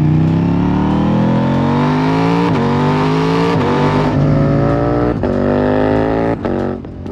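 A KTM Duke parallel-twin motorcycle engine with a 75-degree crank revs hard, its throaty note climbing repeatedly through the gears and dropping between pulls, loud and close throughout.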